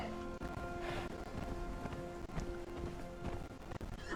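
Horse hooves clatter in a steady, rapid rhythm as a mount is ridden in the game Conan Exiles, with sustained background tones from the game running underneath.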